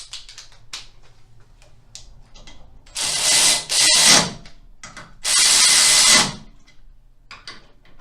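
A power tool driving the lower triple clamp bolts on a Harley-Davidson during a rake kit install, two short loud whirring bursts, a pause, then a third, with small metallic clicks and taps between.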